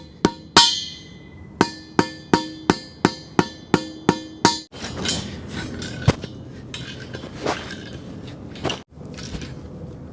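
Hammer blows drive steel bolts down on a workshop building frame, about ten sharp ringing metallic strikes in a steady rhythm, followed by scraping and clanking handling noises.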